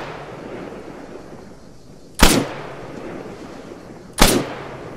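Two sharp gunshots from the military shooter game Arma 3, spaced about two seconds apart, each a loud crack with a short tail over a low ambient bed.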